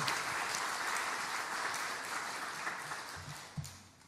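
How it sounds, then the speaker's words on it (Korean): Applause rises from a Korean church gathering offered in praise to God, a sustained wash of clapping that slowly thins, with a few louder thumps near the end. "하나님께 영광의 박수를 올려드립니다"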